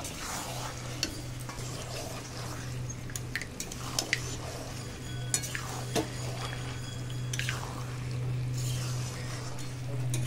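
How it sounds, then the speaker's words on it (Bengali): A spoon stirs and turns chicken meat in a pot over a steady frying sizzle, with scattered clinks against the metal and a continuous low hum beneath. "মাংস খুব ভালো করে নেড়ে নিয়েছি"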